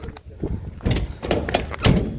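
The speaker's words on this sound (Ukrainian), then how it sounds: "Закриваємо дверцята, дверцята на манітах" Several short thuds of a minibus door being handled and shut, a few loud knocks over about two seconds with faint background noise.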